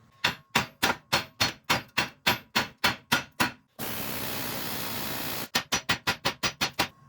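Repeated sharp hammer blows on a ball joint of a two-door Chevrolet Tahoe in a steady rhythm, about a dozen strikes, broken by a few seconds of loud hissing noise, then more quick blows.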